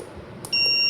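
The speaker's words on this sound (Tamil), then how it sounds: "இப்போ நம்ம கிராஸ் ஆனோடனே அலாரம் வந்து அடிக்குது." An ESP-based smart desk clock sounds its alarm, a single short, sharp electronic beep that starts abruptly after a quiet moment and cuts off just under half a second later.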